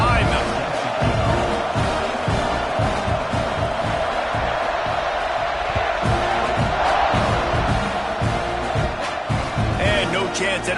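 A football stadium crowd roars steadily before kickoff, a dense wall of cheering and shouting that holds loud throughout, with a commentator's voice talking over it.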